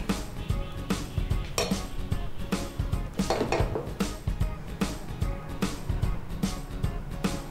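Cooked basmati jeera rice spooned into a serving dish in a home kitchen, giving repeated clinks and scrapes of spoon against dish and pot, fairly close, with light talk and kitchen noise around it.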